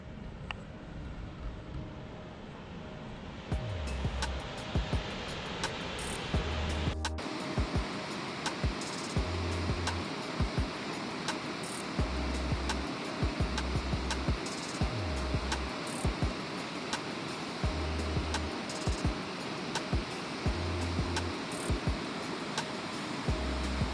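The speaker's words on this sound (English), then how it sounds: "There's a waterfall" A waterfall pours in a steady broadband rush at a roadside stop, continuous and moderately loud, with low rumbling bursts and wind buffeting over it, and no speech.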